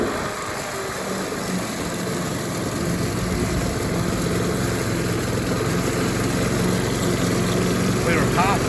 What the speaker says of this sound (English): Get the mowing done by hand, but we don't have a ride on, so it does the job.